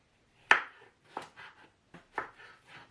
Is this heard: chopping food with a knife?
yes